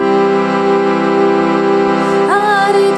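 Harmonium playing the Harinama Mahamantra (Hare Krishna) tune in chords: a steady, reedy sustained drone that shifts to a new chord near the end, with no voices.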